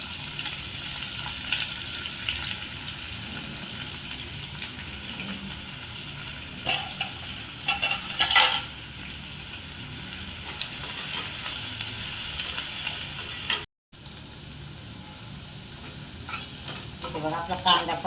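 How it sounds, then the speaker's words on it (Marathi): Finely chopped onion frying in a pan for a spinach paneer dish, a continuous close sizzle with scraping stirring strokes and a few louder clatters, then a brief cut and quieter sizzling. "आणि आपण जो बारीक कांदा कट करून घेतला तो कांदा टाकू."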